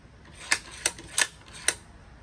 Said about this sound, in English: So open the bolt.